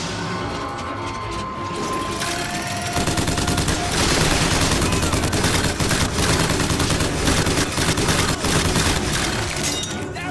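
Rapid mechanical gunfire from a hand-cranked crank gun in the video game Bioshock Infinite, a dense, continuous ratcheting stream of shots that swells louder midway and keeps rattling amid other game noise, with no talk.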